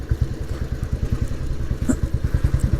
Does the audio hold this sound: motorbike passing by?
yes